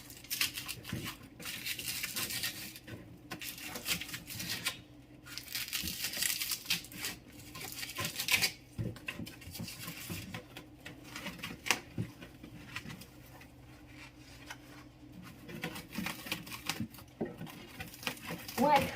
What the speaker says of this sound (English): When I cut this guy's roots